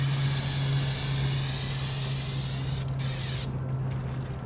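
A spray paint can fires through a lightning cap in one long continuous hiss with a steady tone underneath, briefly cutting out near the end before resuming.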